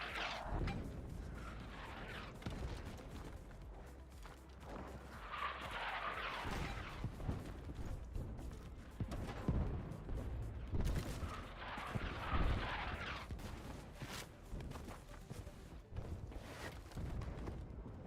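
Repeated explosions and artillery fire from a Battlefield 6 airstrike, dense and continuous with heavy low booms and rolling blasts throughout, loud and close.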